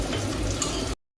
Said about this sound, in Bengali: একটুখানি কষিয়ে নিয়ে তারপরে জল ঢেলে দেবো।